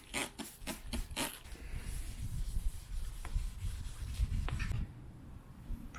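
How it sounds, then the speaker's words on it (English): Wet sanding of Mercedes Sprinter van bodywork by hand with 5000 grit sandpaper and soapy water: several quick close scrubbing strokes at first, then a softer steady rubbing hiss that fades near the end. "That's all the sanding I'm brave enough to do."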